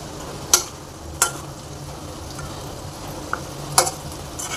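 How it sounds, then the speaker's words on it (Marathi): Vegetable koftas fry gently in oil over a low flame, a soft steady bubbling hiss punctuated by a few sharp clicks and taps of a utensil against the pan. "त्यामध्ये मंद आचेवर ठेवायचं आणि एक एक कोफ्ता त्यामध्ये तळून घ्यायचा"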